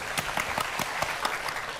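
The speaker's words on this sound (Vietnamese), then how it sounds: "Vỗ tay cho người ta đi, khích lệ tinh thần." An audience on a television matchmaking show gives brief, steady applause, with a few close, evenly paced claps standing out over a continuous wash of clapping.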